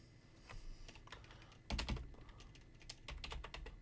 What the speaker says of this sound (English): In here, you're going to type in your email.